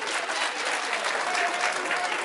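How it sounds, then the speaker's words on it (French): Audience applause for the dancer Mamadi at a Guinean independence anniversary celebration, a dense, steady wash of clapping from a large crowd, loud and sustained throughout. "Applaudissez encore pour Mamadi"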